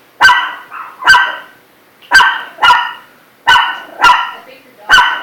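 A dog barks six times in sharp, loud, close bursts spaced roughly a second apart, with quiet gaps between, and no talk over them.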